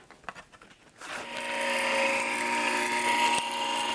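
A Sizzix die-cutting machine presses a Tattered Florals flower die through burlap stiffened with Mod Podge. A few crisp crackles give way to a steady, close grinding rumble as the rollers drive through, with no talking.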